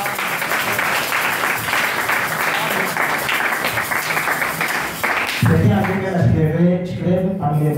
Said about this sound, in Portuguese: Vamos bater palmas para o nome do Senhor Jesus